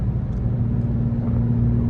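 A 900bhp BMW M4 with traction control off accelerates hard on a night drive, a steady loud low engine drone and rumble heard from inside, with no talk over it.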